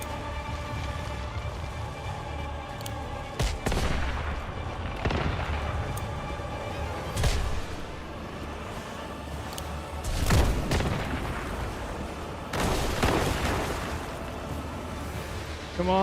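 Grenade blasts and heavy booms in the survival shooter Once Human, several loud explosive bursts scattered across the stretch over a busy game soundscape with music.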